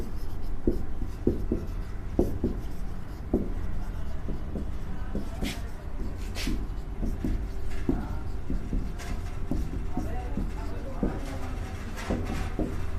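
Writing on a board during a class 11 physics lesson on projectile motion produces scattered scratchy strokes and taps throughout, close but fairly soft, with a teacher talking over a constant room hum.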